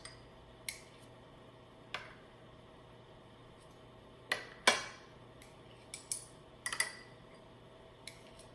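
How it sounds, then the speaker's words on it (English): Teaspoons clinking against a bowl while jam is dropped into drop-biscuit batter, a scattering of sharp metallic taps at irregular intervals, some clustered together, in an otherwise quiet room. "I'm going to use my 2 little spoons, my teaspoons, and I'm going to put a teaspoon in each one in the middle"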